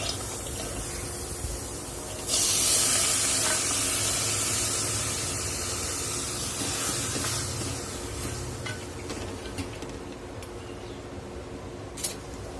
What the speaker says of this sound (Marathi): तर कडवंच्या भाजत असताना आपण एक चमचा भर तेल घालून घेणार आहोत